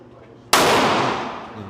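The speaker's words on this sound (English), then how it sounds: "I'm watching the gun shooting." A single sharp gunshot cracks loudly and suddenly after a quiet moment, its blast decaying over about a second with no talking.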